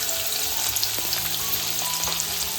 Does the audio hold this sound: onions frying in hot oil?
yes